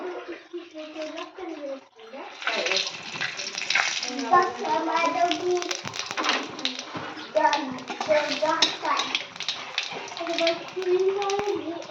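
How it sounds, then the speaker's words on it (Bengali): Cumin seeds and bay leaves crackle and sizzle steadily in hot oil after a quiet start, with a voice talking over the frying. "এবার আমি জিরে তেজপাতা ফোড়ন দিয়ে দেবো"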